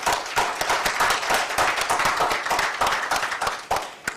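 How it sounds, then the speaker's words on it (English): Conference audience applauding in a standing ovation, dense continuous clapping from many hands, steady and fairly loud throughout without pause. "I understand they call it standing ovation"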